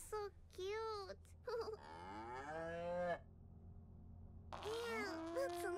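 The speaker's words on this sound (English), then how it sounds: "There's a bunch of cows on the field." Cows in a field in the video game Little Misfortune, giving several drawn-out moos of varied pitch, some short and some long, with a quiet gap before a final pair of calls.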